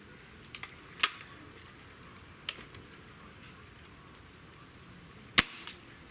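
An air rifle with a replaced piston seal fires during a chronograph test, giving one sharp, loud crack that stands alone against quiet background, with a few fainter clicks before and after.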